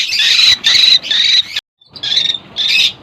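A lovebird gives loud, harsh squawks repeating in bursts, with a brief pause in the middle before the shrill calls resume close by.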